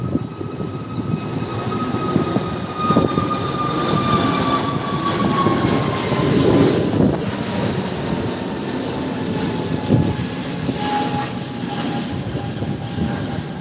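A long, steady engine roar with a slowly falling whine, like a large aircraft passing overhead during a cyclone storm, loud and continuous with no voices.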